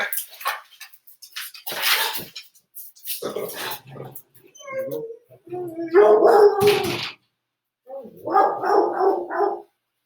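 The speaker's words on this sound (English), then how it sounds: "Anyways, dog barking, craziness." A dog barks and yelps in several loud, close bursts indoors, with whimpering and howling notes between the barks and brief quiet gaps.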